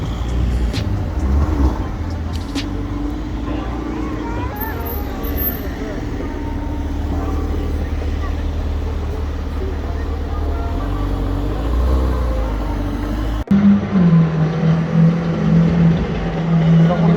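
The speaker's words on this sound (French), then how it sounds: "On va avoir une petite Ferrari juste là." A Ferrari sports car passes on a street during car spotting, its engine a steady rumble under a continuous background of traffic and other vehicles, with a sharp louder change near the end as another vehicle moves close.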